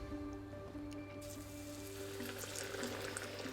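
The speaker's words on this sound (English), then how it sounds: "let them sizzle away" Faint, steady crackling sizzle of sweet pakora fritters frying in hot oil, a soft continuous spatter with a low hum underneath.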